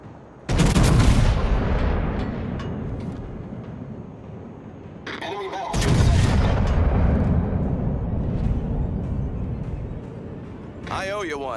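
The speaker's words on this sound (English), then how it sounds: "Concentrate fire on the enemy warship." Warship artillery in a World of Warships naval battle booms in two big salvos, each a sudden loud blast trailing off into a long rumbling decay, with short clipped in-game voice lines between and after them.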